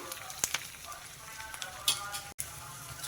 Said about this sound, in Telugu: ఈ ఉల్లిపాయలు కొంచెం ఎర్రగా వేగితే బాగుంటాయండి